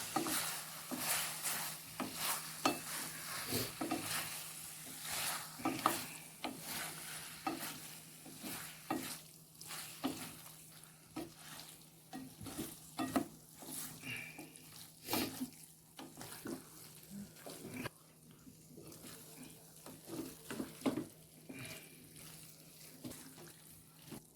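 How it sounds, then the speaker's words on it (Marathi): Chilli paneer frying and being stirred in a pan with tomato sauce added, a soft continuous sizzle broken by frequent scraping stirs, close and fairly quiet, with no talking. "त्यानंतर पुन्हा फ्राय करून घ्यायचं आहे"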